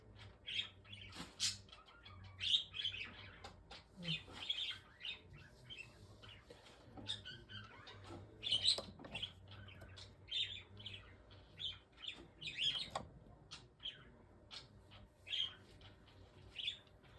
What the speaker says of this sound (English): we have a choir of birds!